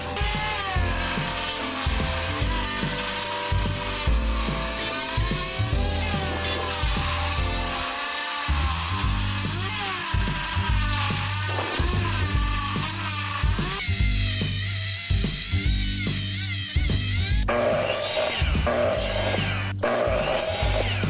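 A power tool whines and buzzes steadily as it cuts weathered, dirty pieces of wood to size against a spacer. The pitch rises and falls with the load, and a short pause comes near the middle.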